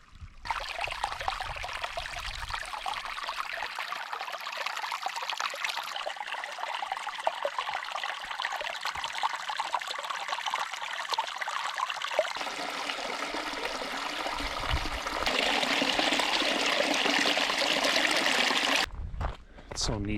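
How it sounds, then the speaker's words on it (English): Clear water runs and trickles steadily along a river in a canyon, crisp splashing babble close by that swells louder toward the end. "there's some water running here"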